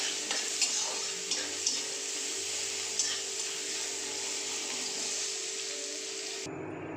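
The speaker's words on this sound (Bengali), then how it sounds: "দেখুন পেঁয়াজটা ভাজা ভাজা হয়ে গেছে" Onion fries in a pan with a bay leaf, giving a continuous close sizzle with light taps and scrapes of stirring in the first half before the sound cuts off abruptly near the end.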